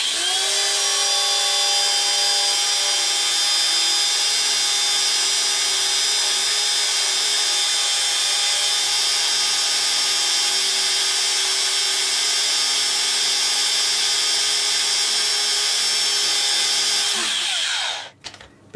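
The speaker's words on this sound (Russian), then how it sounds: "Сейчас, пока камера настроена, я просверлю еще несколько отверстий." A power drill boring holes in glass whines steadily at high speed for about eighteen seconds, a continuous bright grinding tone, then winds down and stops abruptly.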